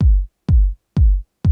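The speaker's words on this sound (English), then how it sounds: "this is just like a kind of deep, nice, warm kick that I often use" A deep, warm kick drum sample from a loop in Ableton thumps four times at a steady pace, each hit boomy and decaying quickly into silence, loud and alone.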